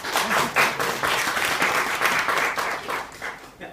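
Company staff clap for themselves at a motivational talk, a close, dense burst of many hands that swells and then gradually thins toward the end.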